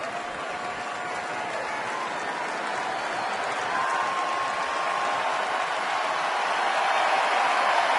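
A Colorado Rockies home crowd in a baseball stadium cheering and applauding, a broad steady roar that swells toward the end, with no speech over it.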